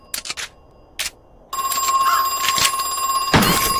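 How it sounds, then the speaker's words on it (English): An old-style telephone bell rings in the survival horror game Crow Country: short bursts of ringing, then a sustained loud electronic ring tone running steadily to the end. "We're not going to answer that phone."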